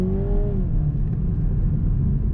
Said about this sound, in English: I'm going to put on sport mode here, which immediately opens up the exhaust a bit